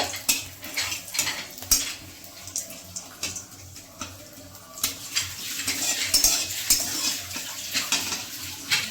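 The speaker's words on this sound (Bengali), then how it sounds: "তেজপাতা আর দিলাম হচ্ছে শুকনো লঙ্কা এটাকে ভালো মতো করে একটু ভেজে নেব" A bay leaf and dried red chillies fry in a pan with a continuous hiss and sizzle, while a spoon clinks and scrapes against the metal several times, close by and without speech.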